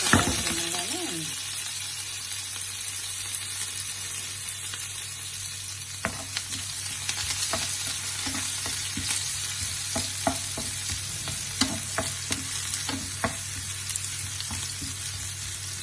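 Onions, cumin, mustard seeds and curry leaves fry in a pan for an ivy gourd onion dish, a continuous close sizzle punctuated by sharp popping crackles and occasional stirring scrapes.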